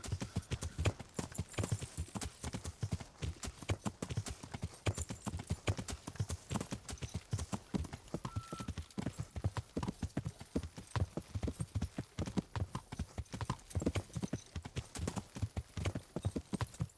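Horse hooves clip-clop steadily and continuously while riding in the medieval game Kingdom Come: Deliverance, a brisk repeating rhythm close up with an occasional whinny and no talking over it.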